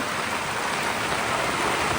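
Heavy rain pours outdoors during a storm near a river, a dense, steady roar of falling water with no pauses.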